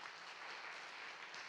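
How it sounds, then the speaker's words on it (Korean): Church congregation applauding during a Sunday worship service, a steady, fairly faint wash of clapping that holds evenly throughout with no voices over it. "한번 박수 할까요?"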